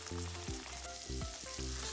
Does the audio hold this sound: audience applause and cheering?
no